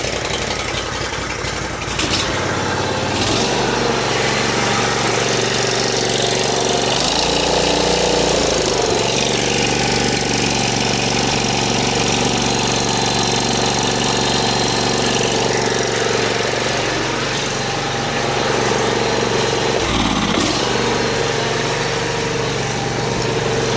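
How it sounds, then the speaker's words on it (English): A cheap used Toro Z Master zero-turn lawn mower's engine cranks and catches, then runs loud and rough at rising revs, with a brief dip mid-run before climbing again, close by with no voices. "Let's try to start it and increase the RPMs."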